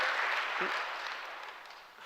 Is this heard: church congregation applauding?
yes